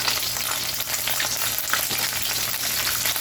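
Beans and jalapenos fry in a hot pan with a loud, steady sizzle and crackle, broken by occasional stirring scrapes, close up and with no voices.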